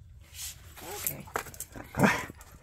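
A dog whimpers and lets out short barks and yips, close by, mixed with people talking over and between the sounds.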